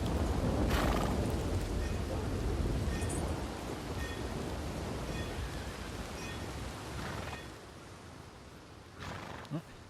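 In Red Dead Redemption 2, heavy rain hisses steadily throughout with low rumbling thunder rolling beneath it, and a horse can be heard faintly amid the storm.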